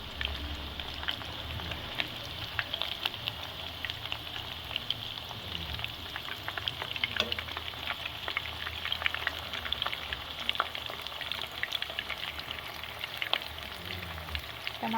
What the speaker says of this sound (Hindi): इसको आपने दोनों साइड से फ्राई करना है। पहले इसकी एक साइड सिक जाए फिर टर्न करेंगे